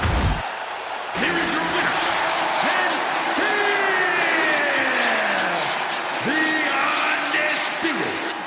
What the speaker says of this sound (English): Thunderous applause for these competitors. A wave of sound coming from every corner.